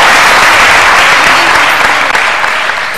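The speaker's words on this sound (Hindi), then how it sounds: "कोई तालियां बजाइए बरकत के लिए जरा" A studio audience on a Ramadan television show claps loudly and continuously for a contestant named Barkat, a dense wash of applause filling the whole moment.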